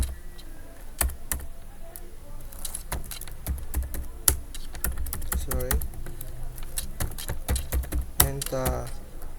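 Fingers tap rapidly on a computer keyboard, producing irregular bursts of clicking keystrokes close to the microphone over a faint background.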